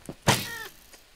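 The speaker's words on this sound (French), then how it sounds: "pourquoi il y avait un chat ici?" A cat meows once in a video game, a short clear mid-loud cry after a soft thump, with no talking over it.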